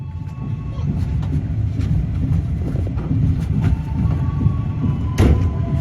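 Interior of the Airlangga passenger train running toward Jakarta: a steady low rumble and rattle of the carriage on the rails, with faint clicks and a brief louder clunk near the end, no speech.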